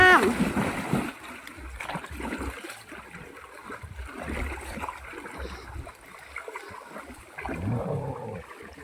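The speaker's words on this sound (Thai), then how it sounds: "สอยเงิน ไปลงน้ำไปลูกไป" A Thai water buffalo plunges into water with a heavy splash at the start, followed by ongoing sloshing and churning while people call out nearby.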